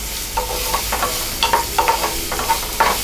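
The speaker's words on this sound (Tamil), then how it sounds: "பச்சை மிளகாய், வெங்காயம் இது ரெண்டையுமே ஆட் பண்ணிக்கலாம். இது வந்து நல்லா வதங்கணும்." Green chillies and onions sauté in hot oil with a steady sizzle, punctuated by repeated scraping stirs of a spatula against the pan.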